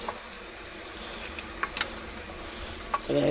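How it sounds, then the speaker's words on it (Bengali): Grated ginger is stirred in a hot pan, with a steady frying sizzle broken by a few scraping strokes and a louder burst of sizzle at the end. "আদাটা গ্রেট করে আমি দিয়ে দিয়েছি, একটু নাড়িয়ে নিলাম।"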